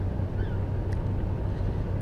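A tug boat engine in the European Ship Simulator game rumbles with a steady low throbbing drone, even and continuous, with a faint whistling tone above it and no talk.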